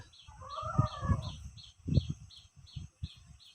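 A red junglefowl rooster, caught from the forest and kept with young hens, gives one strained crow early on, followed by soft clucks and rustling while a high insect pulse repeats steadily in the background.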